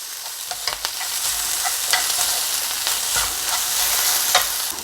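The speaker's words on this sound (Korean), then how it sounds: "이제 한꺼번에 볶아주시면 됩니다" Ingredients for a simple diet meal stir-fried together in a hot pan: a steady, fairly loud sizzle with quick spatula scrapes and tosses scattered through it.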